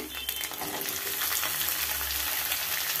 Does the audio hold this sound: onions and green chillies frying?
yes